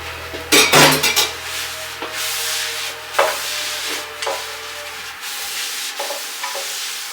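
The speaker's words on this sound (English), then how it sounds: "Just gonna be cleaning my board." A cutting board is cleaned after preparing apple crisp, giving close, loud scraping and clattering knocks in irregular bursts, with a sharp cluster of clatters early on and softer taps and rubs afterward, and no speech.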